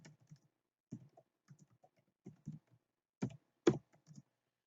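Typing on a computer keyboard in a quiet room, irregular short bursts of close, crisp key clicks separated by brief pauses, with a couple of louder strokes near the end.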